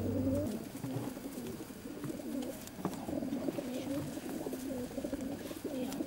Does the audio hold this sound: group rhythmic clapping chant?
no